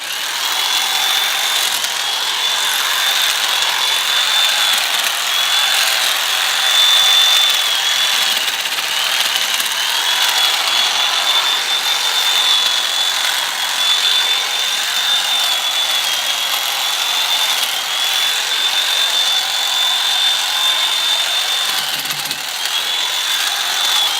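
A power tool runs steadily for about twenty-four seconds while a fernbush shrub (Chamaebatiaria millefolium) is pruned back beside a sidewalk, giving a continuous, fairly loud whine with no talking.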